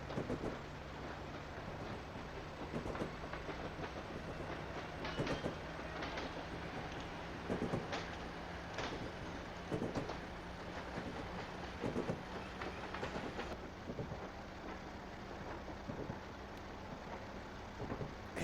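A train rolls along rails in the Train Sim Classic game on the Boston & Albany route, with a steady rumble broken by regular, sharp clickety-clack wheel beats over rail joints.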